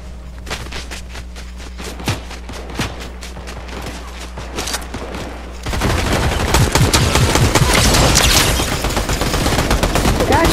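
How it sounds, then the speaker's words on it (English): Bursts of gunfire in the video game Fortnite, sparse scattered shots at first, then a dense, louder stretch of rapid continuous firing, with faint background game ambience throughout. "This one I just heard shooting."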